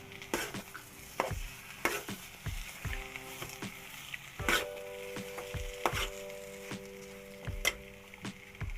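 Suji halwa with raisins and grated coconut is stirred in a pan, a spoon scraping and clacking against the metal in quick irregular strokes, fairly close and alone.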